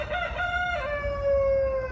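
A cockerel crows once in a long, drawn-out call with a bright harmonic tone, fairly close and clear, with low background rumble and no talking.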